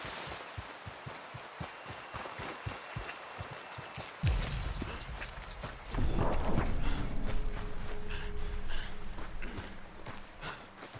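Horse hooves clip-clop in Red Dead Redemption 2 as a steady, evenly spaced run of hoofbeats over the first few seconds, followed by louder, denser ambient noise with possible faint voices.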